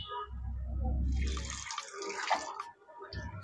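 Dishes left from breakfast, including oily pasta plates, washed in a kitchen sink under a running tap: a steady, close rush of water for the first couple of seconds, then lighter splashing and clattering.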